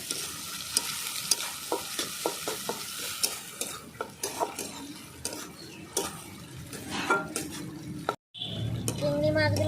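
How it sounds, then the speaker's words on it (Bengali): Shrimp fry with onion and garlic in a pan for a jute leaf dish, a soft sizzle punctuated by repeated clinks and scrapes of a utensil, with a brief break near the end. "তখন দিয়ে দেবো চিংড়ি মাছ একই সঙ্গে ভেজে নেব চিংড়ি মাছটা"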